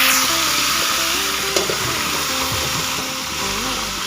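Ridge gourd and potato fry in a pan, a steady broad sizzle running throughout with a faint low hum underneath and one small clink, no speech.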